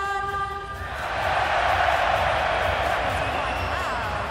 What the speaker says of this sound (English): All the men and all the boys, give me a big cheer